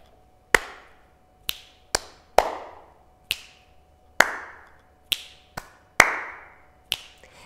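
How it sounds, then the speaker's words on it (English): A body percussion pattern mixes hand claps and finger clicks, around a dozen crisp, separate hits with short ringing tails and small gaps, played close and alone in a quiet room. "Clap, click, clap, clap, click"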